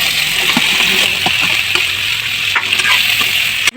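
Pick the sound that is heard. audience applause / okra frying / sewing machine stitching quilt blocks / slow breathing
okra frying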